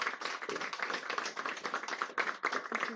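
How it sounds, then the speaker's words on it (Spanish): Applause from the audience fills a medical conference on conservative scoliosis management as a doctor is honored; dense, steady clapping from many hands, continuous and fairly loud throughout. "Un aplauso para la doctora Karen"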